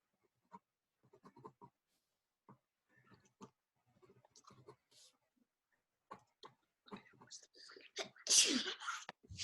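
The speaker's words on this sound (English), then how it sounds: "cover your sneezes." A single loud sneeze bursts out near the end, following quiet scattered whispers and small clicking sounds in a hushed room.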